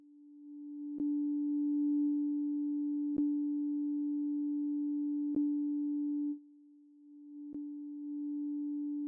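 A soft, pure synth tone repeats the same note in long sustained pulses, each starting with a faint click, about every two seconds.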